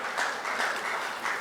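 Audience applause at a panel discussion during a trade conclave in Mumbai, a brief, even patter of clapping from a seated crowd, moderately loud and steady throughout.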